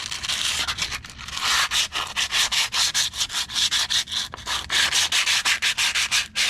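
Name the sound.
hand sanding old finish off a machine tool tilt table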